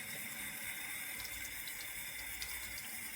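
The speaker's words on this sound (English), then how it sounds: "So now I'm gonna rinse." A bathroom tap runs into the sink while a makeup brush is rinsed under it, producing a faint, steady watery hiss with light splashing flickers and no voices.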